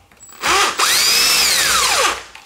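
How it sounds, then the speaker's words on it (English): A cordless drill driver unscrews a bolt on a BMW 3 Series engine, giving a short burst, a brief stop, then a steady high whine that ramps down in pitch. It is loud and close, with no talk. "we can see that how this my drill driver opens it"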